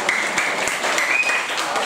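An audience at a cheerful Indonesian religious talk claps in steady, dense applause that fills the moment at a fairly even level, with a faint voice or two slipping through the clapping.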